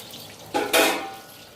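Usirivakaya gooseberries dropped into hot oil, two sharp sizzling bursts close together that flare loudly and then settle into a softer fading hiss.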